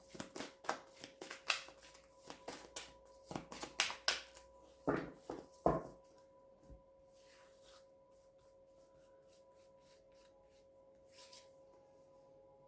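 Angel oracle cards are shuffled in several close, crisp riffling bursts over roughly six seconds, followed by quieter soft rustling of the deck.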